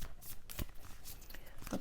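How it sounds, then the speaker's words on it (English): Tarot cards are shuffled quietly up close, with soft riffling and papery flicks in uneven bursts, faint overall. "I'm just going to give it one more shuffle here."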